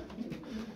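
Tumbler pigeons coo in a brief, low, throaty burble from a flock of about eleven birds, close and steady with no break.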